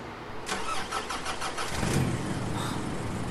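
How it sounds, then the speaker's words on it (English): A car engine outside cranks and catches, then settles into a steady idle with a slight rev, heard at moderate distance without any talk. "Yes, it's a car."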